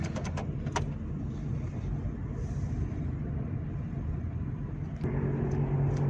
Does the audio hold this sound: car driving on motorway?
yes